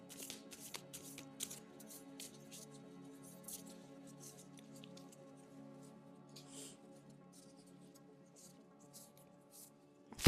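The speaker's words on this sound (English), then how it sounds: "One more, since we are getting extra cards for you." Tarot cards being shuffled by hand for a pick-a-card reading, a soft, steady papery riffling and sliding that runs throughout at low volume with faint background hum.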